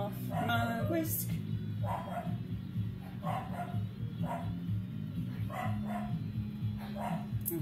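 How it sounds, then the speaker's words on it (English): A female dog barks loudly and repeatedly in a home kitchen, sharp barks arriving in a fairly regular series over a low background hum. "My pupper, the loudest girl in the world."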